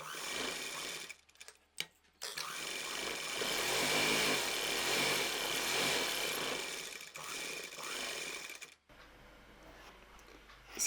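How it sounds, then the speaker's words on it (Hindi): A sewing machine running a double line of stitching along the edge of a frill frock, a continuous close whirring buzz with brief pauses at the start and near the end. "डबल सिलाई लगाएंगे।"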